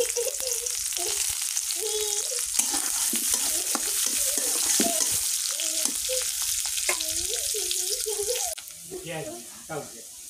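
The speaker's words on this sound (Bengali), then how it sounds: "এখানে পেঁয়াজ কুচি আর রসুন কুচি আছে, গরম তেলে এখন দিয়ে দেবো এটা।" Chopped onion and garlic hit hot oil and sizzle loudly and steadily, close by, with someone talking over the frying throughout and the hiss easing toward the end.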